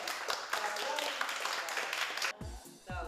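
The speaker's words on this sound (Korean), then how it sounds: "자, 박수." Studio audience applause breaks out briefly in a coding education program, dense clapping for a couple of seconds, then it cuts off into a short quieter passage with a few low thumps.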